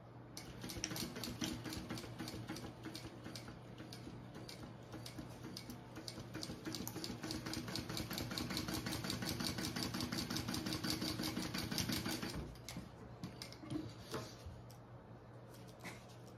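Sewing machine stitching fabric pieces of a waist pack together, a steady rapid mechanical ticking and whir that runs continuously for about twelve seconds before stopping, with quieter handling noise afterward.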